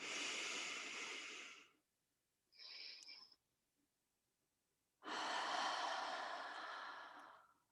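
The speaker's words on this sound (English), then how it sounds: "Let's breathe it in one more time." Two long, deep breaths are drawn and released slowly and steadily up close, with a brief softer breath between them during a guided breathing exercise.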